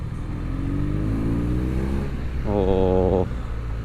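A motorcycle engine revs up through the gears, each shift bringing a rising drone, loud and close with a person talking over it.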